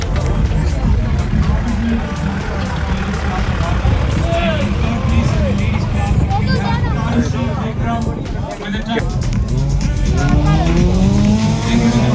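Race cars roar through a dusty Mysore gravel racing event, engines loud and continuous, with tires squealing and skidding on the loose surface over a steady crowd murmur throughout.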